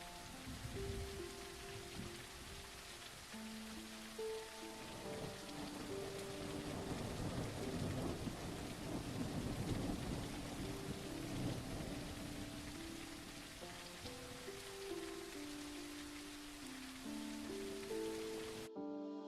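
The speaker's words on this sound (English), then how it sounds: "rain, thunderstorm. That's actually probably my favorite. Like, especially at nighttime. Oh yeah, rain, thunderstorm is cool." Steady rain and rolling thunder from a nighttime thunderstorm in a soulslike open-world gladiator game, heard alone and continuous, with a faint musical tone layered beneath.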